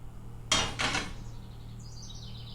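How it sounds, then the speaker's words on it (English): Two short hissing sprays from a can of Pam cooking spray onto a skillet, one right after the other, followed by a faint, thin chirping sound. "you spray your skillet with the Pam"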